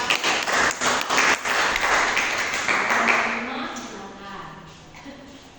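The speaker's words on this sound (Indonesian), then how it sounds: "Silakan berikan aplaus kepada kelompok 4." Students in a grade 8 micro-teaching class clap for group 4, a brief burst of scattered hand claps that fades out as the room settles.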